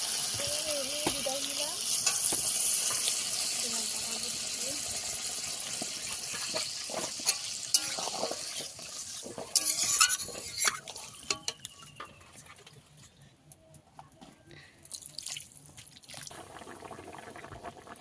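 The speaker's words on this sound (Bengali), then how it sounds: "দিয়ে দেবো এবারে জল" Water is poured into curry simmering in a pan for a village-style fish dish, giving a loud bubbling, splashing wash that gradually settles into softer drips and a gentle boil.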